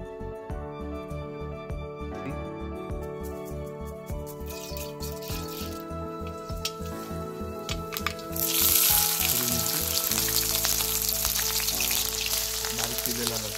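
Finely chopped garlic frying in peanut oil in a kadai gives a crackling sizzle. A rhythmic rattle runs through it at first, and then the sizzle swells into a loud, dense hiss that lasts to the end.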